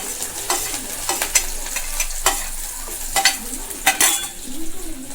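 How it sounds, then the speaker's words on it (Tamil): Onions frying in hot oil in a kadai, a steady sizzle broken by repeated scrapes and clinks of a stirring spoon against the pan, with no voices. "கொஞ்சம் வெங்காயம் சேர்க்குறேன்"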